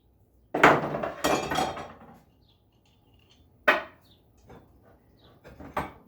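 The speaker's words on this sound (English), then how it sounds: "I'm going to give it a few taps with this." Sharp metallic taps from a tool strike an engine part on a Predator 224 small engine: a loud pair of hits, a pause, then several lighter, scattered knocks, each ringing briefly at close range.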